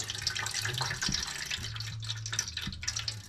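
Water pours steadily from a tap into a measuring cup, a continuous close splashing stream with a faint hum underneath.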